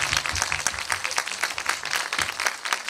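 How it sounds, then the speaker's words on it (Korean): An audience at a Korean film screening's guest talk applauds an actress's self-introduction, steady, lively clapping from many hands throughout. "공감의 박수가 많이 나오네요"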